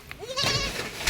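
A goat gives a short, wavering bleat at close range on a Filipino farm, one quick call rising then falling, with faint background noise and no talk.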